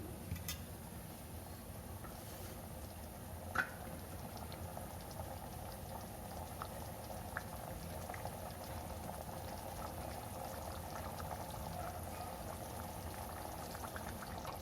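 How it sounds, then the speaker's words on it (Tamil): Steady bubbling simmer of thick paneer butter masala sauce cooking on a stove over a medium flame, continuous and close, with a couple of faint clicks and no voices. "மீடியம் ஃப்ளேமில் வச்சு லைட்டாக கொதி வரட்டும்."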